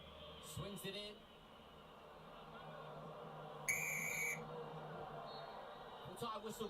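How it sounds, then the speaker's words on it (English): At a Napoli versus Lecce football match, the referee blows the full-time whistle in one shrill blast under a distant crowd murmur, while someone speaks briefly before and after it. "Full-time whistle goes."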